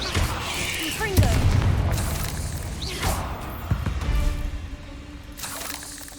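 Confringo fire spells explode in the Hogwarts Legacy video game, sending a few sharp booms and crackling bursts through a busy wash of game effects and background sound, with a voice speaking now and then.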